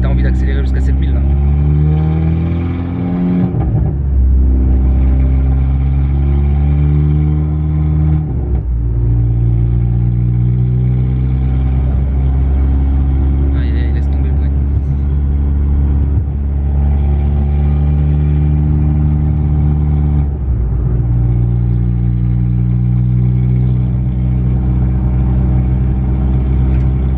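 A Seat Leon Cupra R engine drones loudly while cruising in sixth gear, a steady low hum with small shifts in pitch as the car changes speed, continuous from inside the cabin.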